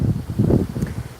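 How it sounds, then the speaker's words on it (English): Gusty, gale-force wind buffets the open air at a cottage, rumbling low and uneven in close pulses that could be wind noise on the microphone. "Really windy day here at the cottage. Kind of gale force winds"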